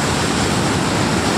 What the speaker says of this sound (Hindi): ये रहा इस डैम का जो पानी अभी छोड़ा गया है कुछ समय पहले ही।